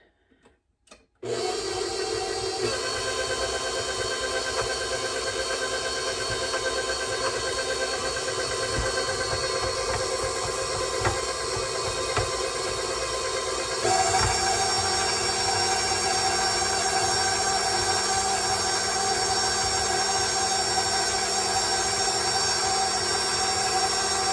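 An electric mixer beats oatmeal raisin cinnamon cookie dough with a loud, continuous motor whine and grinding hum that starts abruptly and runs steadily with no talking.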